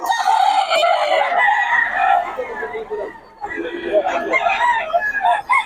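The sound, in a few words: rooster crowing at a market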